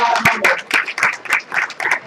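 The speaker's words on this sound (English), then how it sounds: "Give it a round of applause." A room full of people gives a round of applause, with loud, close claps arriving in uneven bursts that swell and dip over a couple of seconds, along with some murmuring from the crowd.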